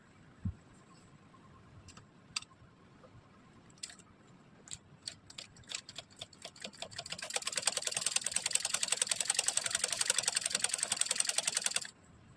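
A sewing machine stitches a cotton blouse neckline, first a few scattered isolated taps and short bursts, then a steady rapid run of close-spaced needle strokes for several seconds before stopping abruptly; no voices.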